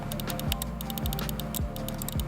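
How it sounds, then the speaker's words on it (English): Crisp clicks from a retro-style computer mouse come in a fast irregular run, close and clear, with repeated sharp ticks over a faint low hum and no voices. "it has a really satisfying clicking sound"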